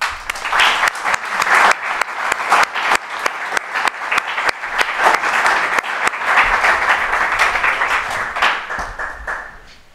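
An audience at a university debate on the United States government claps loudly to bid farewell to a guest speaker, James Michael, in sustained, close applause with crisp individual claps that swell in the middle and taper off at the end.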